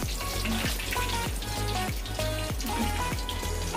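Butter-coated prawns fry in hot oil, giving a steady, loud, close sizzle with continuous bubbling and popping and no talk.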